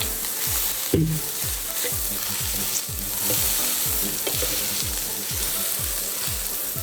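A cheeseburger patty fries in a pan with a loud, continuous crackling sizzle, joined by a low, rapid rhythmic pulsing and an occasional clink, heard up close with no voices.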